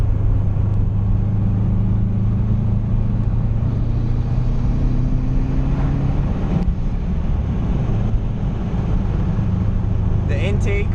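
Subaru WRX engine fitted with a Cobb intake, heard from inside the car as a steady low rumble and drone, with pitch shifting slightly as it runs; continuous and fairly loud throughout.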